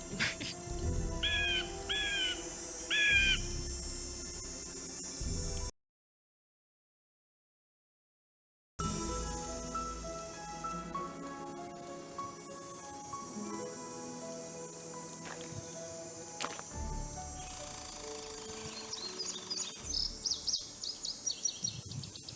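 Ambient outdoor creatures in a Nancy Drew mystery game set at Moon Lake: repeated crow caws, chirping birds and buzzing insects form a continuous layered soundscape, broken by a brief silent gap, with occasional faint talk.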